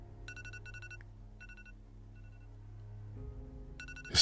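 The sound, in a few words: alarm clock ringing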